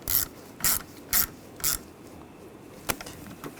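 Ratchet clicking as it tightens the battery hold-down on a 2014-2018 GMC Sierra 1500: four short bursts of rapid pawl clicks at an even pace, then a single sharp metallic tick.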